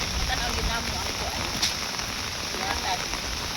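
Heavy rain beats on a corrugated iron roof, a dense, steady patter that stays loud throughout.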